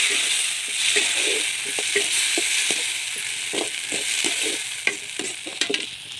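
Chopped tomatoes go into a pan of sautéed onions, a steady close sizzle broken by frequent stirring clicks and scrapes that grow busier toward the end, with no voices.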